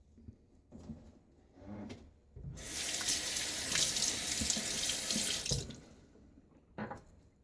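Tap water running into a sink to rinse after a wet shave, a loud steady gush lasting a few seconds between quieter handling clatter.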